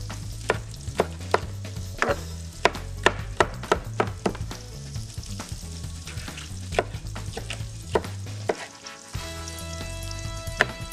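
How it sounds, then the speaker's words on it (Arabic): Shrimp heads and garlic sizzle in a hot pan, a steady frying hiss broken by repeated sharp clicks and scrapes of stirring, close up and with no one talking. "بدي اطبخ الروس مع الثوم هون"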